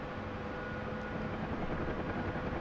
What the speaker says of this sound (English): Bit more left rudder, and that's us airborne the Huey.